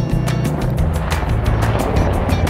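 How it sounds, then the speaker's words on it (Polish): Helicopter landing in a home garden, a loud continuous rotor rumble with rhythmic chopping pulses that stays steady and close, with no voices over it. "Jakiś helikopter ląduje u nas w ogródku."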